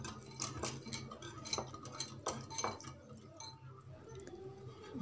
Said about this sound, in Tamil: நல்லா மிக்ஸ் பண்ணிக்கணும்.